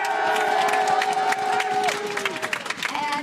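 A studio crowd at a League of Legends LEC Spring semifinal esports match cheers loudly for Fnatic, a dense, sustained roar of voices and applause with sharp whoops rising above it.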